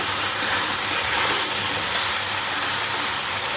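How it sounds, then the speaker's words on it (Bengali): Fried chicken fingers being stirred and tossed into sauce in a pan give a steady, even hiss with a few faint scrapes on top, close by and continuous, with no voices. "এবার ফ্রাই চিকেনটা সসের মধ্যে দিয়ে দেবো দিয়ে চিকেনের সাথে ভালোভাবে মিশিয়ে নিতে হবে"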